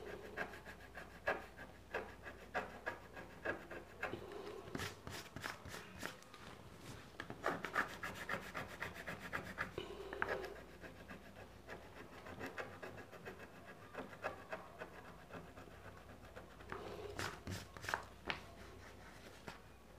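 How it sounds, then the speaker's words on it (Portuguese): Scratch-off stickers in a sticker album being rubbed with a fingernail or coin, giving quiet, close, repeated scraping strokes in uneven bursts with brief pauses. "Tem várias figurinhas que são raspadinhas, tá? E aí a gente raspa e descobre qual que a gente"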